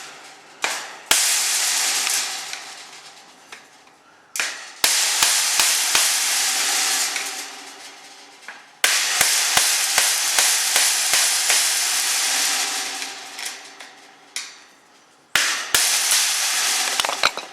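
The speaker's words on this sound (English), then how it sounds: "chisel into the gap between the tube and the grill, and basically just drive it in with a hammer" Sharp metallic strikes ring out in uneven bursts as a hammer drives a chisel between a metal tube and grill to break a weld, several blows in quick succession separated by short pauses, loud and close with no talking.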